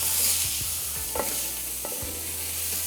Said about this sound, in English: the first thing we need to do then to get the sauce going is to saute off some onions